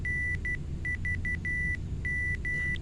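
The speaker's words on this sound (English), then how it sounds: "That beeping, for the life of me, I cannot remember how to get that thing to stop." A Boeing 727 cockpit warning in Flight Simulator X beeps in a steady tone, broken into short and longer pulses in an irregular pattern, over a low engine rumble.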